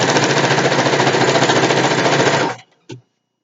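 A sewing machine stitches a satin pillowcase in one long, steady, loud mechanical whir. It stops at about two and a half seconds, and a brief second burst follows.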